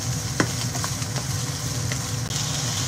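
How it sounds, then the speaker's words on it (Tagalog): Onions sautéing in a pan for a Filipino squid stew, a steady close sizzle with a few scraping stirs and clacks of a utensil, alone without talk. "Ilagay ko na rin yung sibuyas guys. Igisa lang natin to ulit guys."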